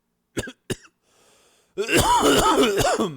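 Two sharp coughs, then a brief faint rasp, followed by a loud burst of strained, groaning vocal noise.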